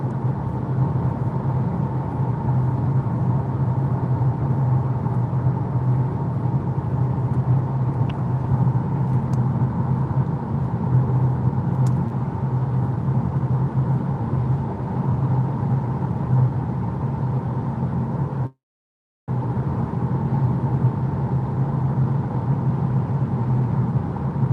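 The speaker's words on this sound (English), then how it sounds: "So maybe not the loudest car experience, but still feel like it's louder than the average car nowadays." Inside a Ford Puma on the move, a steady, fairly loud low engine and road drone fills the cabin throughout, cutting out once for a moment before carrying on unchanged, with no talking.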